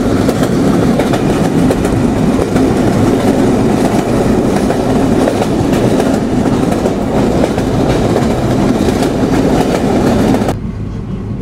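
The intercity Rupsha Bangla Express runs at 80 km/h from Benapole toward Dhaka, with a loud, steady roar and rattling clickety-clack of wheels heard close from inside, dropping off abruptly near the end.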